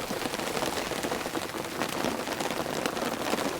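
Heavy rain pours steadily onto a camping tent, a dense, loud hiss of drumming drops close by that stays even for the whole stretch with no voices.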